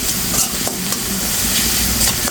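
Onions fry with salt in a pan, giving a loud, close, steady sizzle broken by brief scraping stirs.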